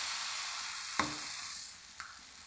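Dosa batter hisses and sizzles steadily on a hot oiled griddle, with a sharp clack at one second and a softer knock near two seconds, and no talking.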